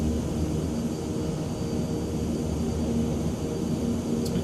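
Steady propeller drone of a King Air turboprop flying in Microsoft Flight Simulator, a constant, even hum with a faint high whine and no speech.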